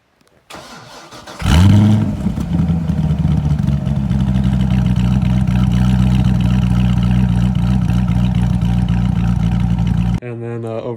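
A Corvette Z06 with a 7-liter LS7 V8, fitted with upgraded heads and cam, cranks and fires up loudly, then settles into a steady, lumpy, choppy idle close by.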